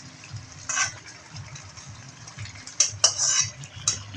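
Fried potatoes being stirred into a meat curry in a pan, with soft scraping and clinks of a utensil against the pan in a few brief bursts over low background noise.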